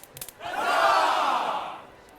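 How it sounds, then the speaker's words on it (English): A tavern crowd erupts into loud, sustained cheering and shouting after a moment of near quiet, holding a broad roar for about a second and a half before fading. "the crowd cheers and starts chanting Lightbringers as you all enter the space"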